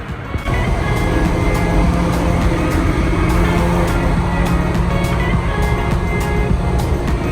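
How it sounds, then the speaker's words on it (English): A drift car at Driftweek idles and revs with a gnarly exhaust leak, giving a loud, close, continuous engine rumble with a raspy, rattling edge and no talk over it. "that's a fucking gnarly exhaust leak right there"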